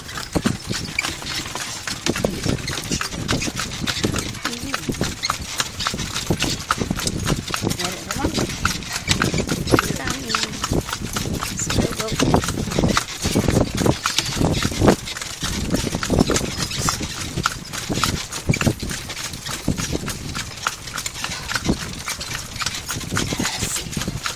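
A horse clip-clops steadily while pulling a kalesa carriage through the Apo Market area of Angeles City, with continuous hoof beats under people talking throughout.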